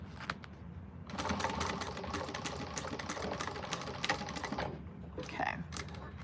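A domestic sewing machine runs in a steady rapid clatter as it back stitches a strap seam on a quilted cactus-print bag, starting after a quiet second and running continuously, close and moderately loud.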